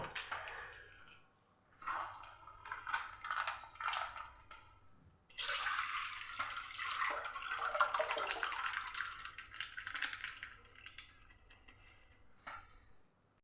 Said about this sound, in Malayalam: ഇതാ നമ്മൾ പാനിലോട്ട് പാലൊഴിച്ചു കൊടുക്കാം